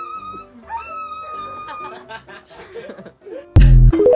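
A person in a dog costume imitates a dog's bark with their voice: one loud, sudden bark near the end, following chatter and laughter.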